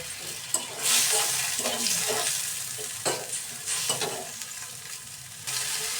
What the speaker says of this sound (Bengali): আর দিব পরিমাণ মতন লবণ দিয়ে মশলা দিয়ে একটু কষিয়ে নেব